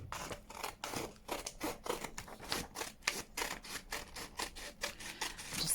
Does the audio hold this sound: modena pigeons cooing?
no